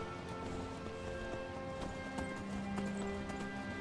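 Horse hooves clip-clop in rapid rhythmic beats as a mount gallops in Skyrim, faint and quick under a steady hum of game ambience and music.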